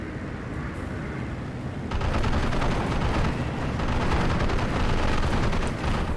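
Cannon fire and explosions in a tank video game, heard as a loud, continuous roar of booms and rumbling that grows heavier partway through, with no talk.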